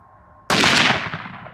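Single loud gunshot fired outdoors, a sharp crack after a quiet moment and then a decaying echo that fades over about a second.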